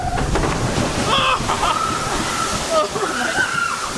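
On the Splash Mountain log flume ride, water rushes and splashes in a loud, continuous wash, with people shouting and talking over it.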